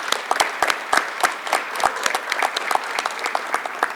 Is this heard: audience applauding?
yes